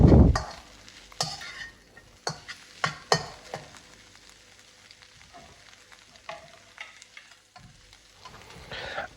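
Ham fried rice being stirred in a frying pan, with a steady sizzle broken by scattered clinks and scrapes of the utensil against the pan, close and moderately loud.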